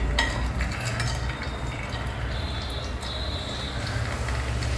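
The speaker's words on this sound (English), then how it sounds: "Here I have some cashew nuts, grated ginger and curry leaves. First we will fry all these." Cashew nuts, grated ginger and curry leaves sizzle steadily in hot oil, with occasional clinks and scrapes of a stirring utensil against the pan throughout.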